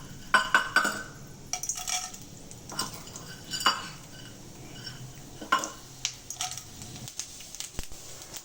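Chana dal dropped into a hot pan with mustard seeds and cumin, light clinks and scrapes of a spoon against the pan with faint sizzling, close and fairly quiet.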